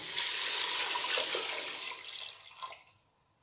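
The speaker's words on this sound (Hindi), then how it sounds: "अब मैं इसके बीच डेढ़ लीटर पानी डाल रही हूँ।" Water, one and a half litres, pours steadily into a pot of kadhi with a broad splashing rush that tapers off near the end, with no voices.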